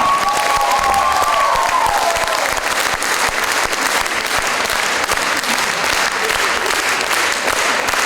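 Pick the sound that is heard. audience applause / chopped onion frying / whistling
audience applause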